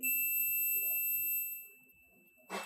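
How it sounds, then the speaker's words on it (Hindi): An ECM circuit board under repair gives a steady, high-pitched electronic beep that holds unbroken throughout, with faint handling noises beneath and a brief burst of rustling at the end. "अभी ये बीप कर रहा है, ठीक है, बीप कर रहा है ये"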